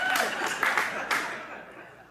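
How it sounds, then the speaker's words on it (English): Scattered clapping and a little laughter from a small audience at a talk, a few brief bursts of hands that fade out within two seconds, moderately close. "And some of you are clapping"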